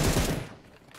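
A short burst of gunfire from PUBG Mobile, a loud, close crack that decays quickly into near quiet within about half a second, with no talk over it.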